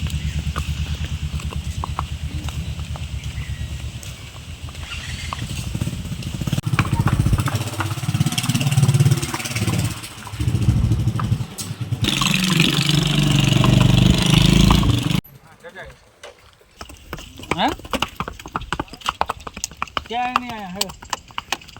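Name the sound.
mare's hooves clip-clopping while being ridden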